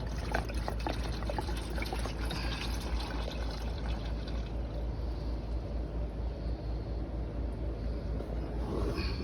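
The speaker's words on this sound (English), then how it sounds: "go ahead and just let that drain out." Transmission fluid drains steadily out of a Ford Five Hundred, making a continuous close-up trickling pour that holds at an even level throughout.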